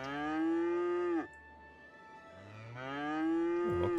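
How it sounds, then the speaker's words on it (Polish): Cattle mooing in the Cities: Skylines city-building game: two long, loud, close moos separated by a brief lull of rustling background. "patrzcie, krowy"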